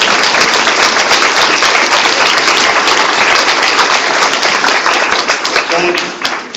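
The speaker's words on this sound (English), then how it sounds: "Let's give them a round of applause." Audience applause for veterans at a Baton Rouge town hall meeting, a loud, dense wash of clapping from a large crowd, sustained and then tapering at the end.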